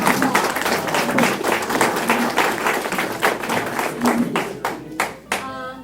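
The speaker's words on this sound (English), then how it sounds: "So give them a round of applause." An audience at a monthly membership meeting gives a round of applause, with dense, close hand clapping that stays loud and then thins out and fades near the end.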